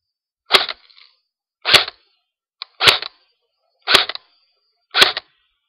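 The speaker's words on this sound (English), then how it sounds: "First, I'm gonna shoot 5 to 10 shots on semi-auto." A Crosman R72 airsoft gun fires five sharp, snappy shots on semi-auto, evenly spaced about a second apart, each followed by a brief faint rattle, with a smaller click between the second and third shots.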